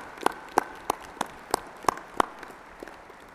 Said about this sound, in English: show them our appreciation by a hand of applause.